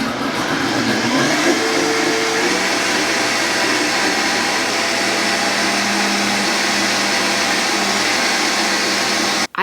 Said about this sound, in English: I like to make butter in our Vitamix blender